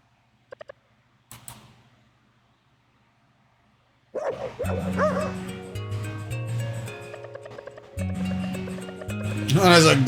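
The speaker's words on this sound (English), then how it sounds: "Oh, that's a goofy ass looking dog." A cartoonish dog in the video game Eastward barks and yips in short bursts, with game music and a person talking layered over the sounds.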